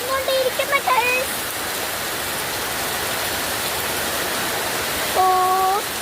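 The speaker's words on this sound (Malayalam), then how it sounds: "ശക്തമായ മഴയാണ് ഇവിടെ നടന്നുകൊണ്ടിരിക്കുന്നത്" Heavy rain pours in a dense, steady roaring wash that masks everything else, with a voice heard briefly at the start and again near the end.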